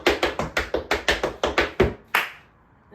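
Tap dance shoes beat out a rolling riffle combination on a hard floor in a practice class: a quick run of about a dozen crisp, evenly spaced taps, a short pause, one final accented tap, then quiet.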